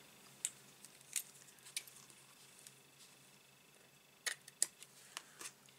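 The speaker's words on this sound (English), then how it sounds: "Scissors would help." Scissors snip ribbon for a handmade card in a few quiet, scattered sharp clicks and slices, close by in an otherwise near-silent room.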